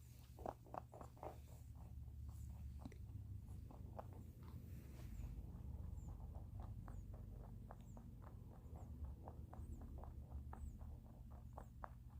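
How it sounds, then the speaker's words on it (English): Pet rabbits munching food nearby, a continuous patter of crisp, rapid chewing crunches over a low steady background hum, with no talking. "Still hear a lot of munching behind me."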